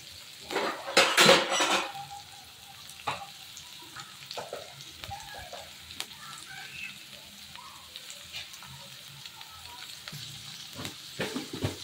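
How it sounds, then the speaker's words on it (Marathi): Capsicum, carrot and green chilli go into hot oil with onion for vegetable oats, giving a steady soft sizzle under loud clinks and scrapes of a spoon against the pan near the start and again at the end. "लगेच आपण ही शिमला मिर्च, गाजर आणि हिरवी मिरची कापून घेतलेली आहे ती टाकूया"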